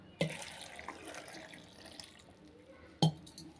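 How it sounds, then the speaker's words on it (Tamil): Water pours briefly into a mixer grinder jar with a short splashing trickle, framed by two sharp clinks at the start and end. "இப்போ தேவையான அளவு தண்ணி சேர்த்துக்கிறேன்"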